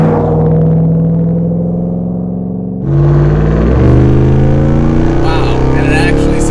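A RAM TRX Hellcat pickup accelerating hard, a loud close engine roar that drops briefly at a gear change before surging again with rising pitch, a voice speaking over it.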